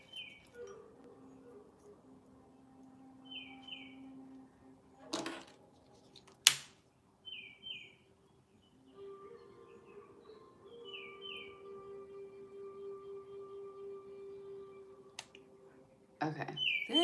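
Birds chirp faintly in the distance, short doubled tweets repeating every couple of seconds, over a quiet room broken by a few sharp knocks and clicks.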